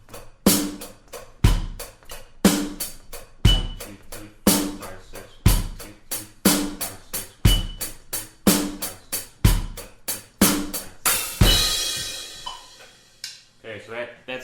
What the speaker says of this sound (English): I'm going to actually play it's basic blues beat number 1.